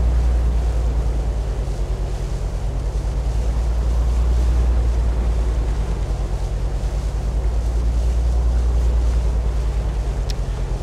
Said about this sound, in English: there's lots of waves here